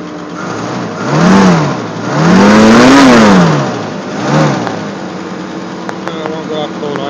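A 1965 AMC Rambler inline six with a freshly rebuilt carburetor runs after a cold start on a winter morning at about -5, surging up and down a few times in close, loud revs before settling to a steadier idle.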